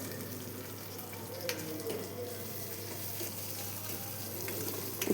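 Curry leaves sautéing in a pan produce a steady, moderate frying hiss throughout, broken by occasional light scrapes of stirring; no one speaks.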